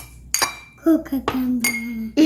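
Chopped cucumbers tumble into a mixing bowl with a few sharp clinks and knocks against the bowl, close and fairly loud, with brief gaps between the hits.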